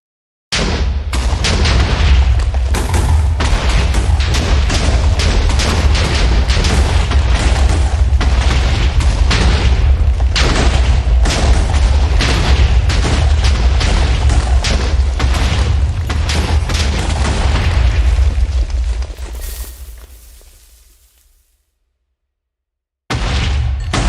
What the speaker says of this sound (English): Now let's see this explosion.